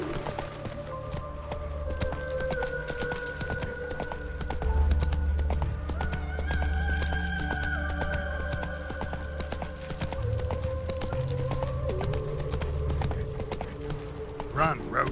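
Geralt's horse Roach gallops in The Witcher 3 with steady, close hoofbeats that continue throughout, under game music and spoken dialogue.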